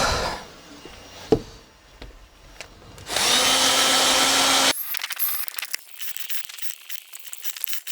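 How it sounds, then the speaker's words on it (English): A power drill bores out a stubborn part in a loud, steady whine lasting about a second and a half, preceded by scattered knocks and a sharp clank, then followed by light clicking and rattling handling sounds. "There's the other way, and that's to drill it out."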